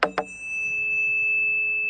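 A tuning fork struck twice with quick metallic strikes, then a steady pure tone ringing on at an even level, with a faint higher overtone above it.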